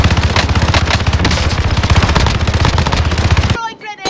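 Video game shootout gunfire: rapid automatic bursts fire in a fast, steady rhythm, loud and close, then cut off abruptly, leaving a brief quieter tail with faint ringing tones.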